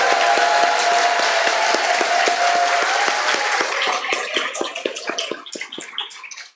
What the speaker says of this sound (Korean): 우리 환호성과 함께 큰 박수 부탁드립니다